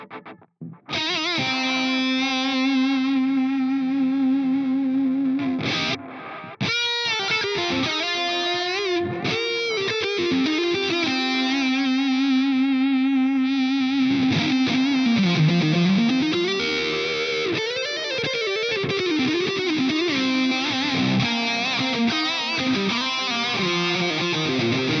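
A distorted electric guitar lead runs through an Atomic Amplifire on its Mark IV lead model with two delays, one at a dotted eighth, giving a loud sustained solo of held notes and bends trailed by rhythmic repeats.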